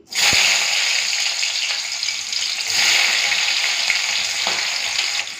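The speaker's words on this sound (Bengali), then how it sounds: "সরষের তেলটা গরম হয়ে গেছে ওখানে পেঁয়াজ আর কাঁচা লঙ্কা দিয়ে দিই" Onions and green chillies hit hot mustard oil with a loud, sudden sizzle that keeps crackling steadily and close, with faint stirring clinks along the way.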